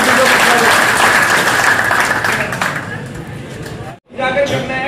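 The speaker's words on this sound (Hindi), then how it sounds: "जोरदार तालियों से संजीव कुमार जी को बधाई।" Loud, dense applause from a crowd at a village political rally in Kalka, cheering village head Sanjeev Kumar, fading toward the end before a brief gap and a voice over amplified sound.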